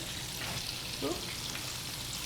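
Chicken pieces frying skin side down in hot oil, with a steady, dense sizzle that stays even and fairly faint throughout.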